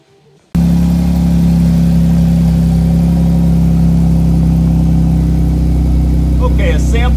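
A Jeep engine with a crushed muffler idles steadily after starting, a loud, continuous low rumble heard from inside the vehicle with no speech over it.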